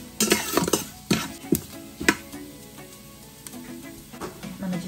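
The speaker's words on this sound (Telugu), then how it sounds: "ఒక 2 స్పూన్స్ ఆఫ్ జీలకర్ర వేస్తున్నాను. అండ్ ఒక బిర్యానీ ఆకు చిదిపి వేసాను. దీన్ని ఒకసారి వేగనిచ్చేద్దాం." Cumin seeds and a torn bay leaf frying in oil, with a soft sizzle under several sharp clinks and scrapes of a spoon stirring in the pan.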